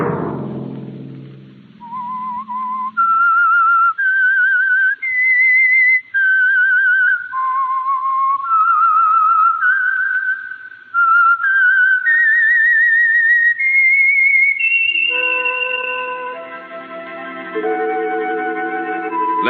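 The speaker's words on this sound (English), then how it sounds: "Let that whistle be your signal for the Whistler, each Sunday night at this same time." A long melodic whistled theme from the old-time radio drama The Whistler, a clear solo whistle stepping through rising and falling notes. An orchestral swell enters near the end.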